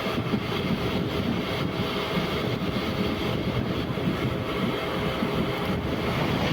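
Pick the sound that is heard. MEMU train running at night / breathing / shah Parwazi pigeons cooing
MEMU train running at night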